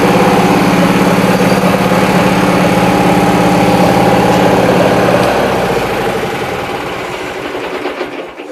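An old tractor engine idles with a steady, loud chugging drone, then the engine note drops and fades as it winds down near the end.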